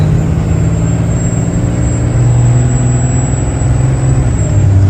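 A Cummins compound-turbo diesel tow truck accelerating in first gear, a loud, steady low engine drone that rises slowly in pitch, heard from inside the cab with a faint turbo whine above.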